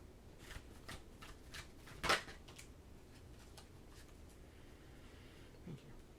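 Oracle cards being shuffled and handled, with soft papery flicks and riffles through the clip and one brief louder snap near the middle, fairly close and quiet.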